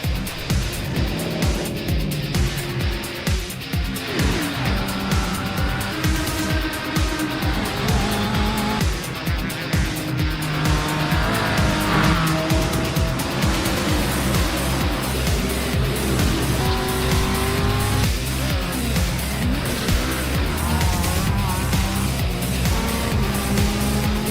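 NASCAR Camping World Truck Series trucks racing at Homestead-Miami Speedway in an esports racing game: continuous loud engine roar with shifting pitch as trucks pass and accelerate, layered with tire squeal and skids, no talking.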